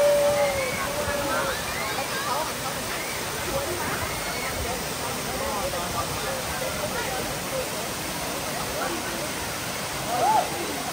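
A mountain stream near A Luoi in Hue, Vietnam, flows in a steady, broadband rush of water that fills the whole span, with a few faint bird calls and distant voices over it.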